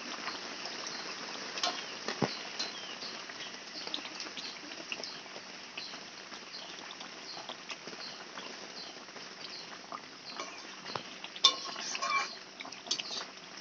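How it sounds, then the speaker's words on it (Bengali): Sorputi fish kaliya curry is stirred in a pan with quiet scraping and clinking of a utensil against metal over a faint bubbling simmer. "ভালো করে নেড়ে চেড়ে"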